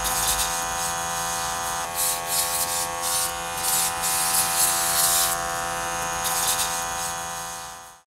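A Baseus cordless pressure washer gun hums with a steady motor whine while its water spray hisses in bursts, close and continuous, cleaning a dirt-caked surface.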